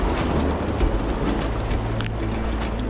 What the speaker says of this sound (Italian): qui c'è vento